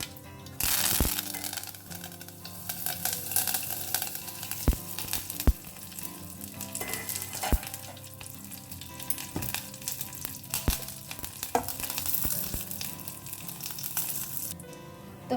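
Mustard seeds and curry leaves crackle and sizzle in hot oil, a steady loud frying hiss broken by sharp popping bursts and spoon stirring throughout, with no voices.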